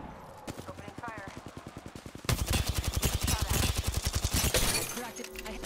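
Apex Legends gunfire: evenly spaced single shots, then a louder stretch of fast rhythmic bursts that keeps going for several seconds, with in-game voice talk in the background.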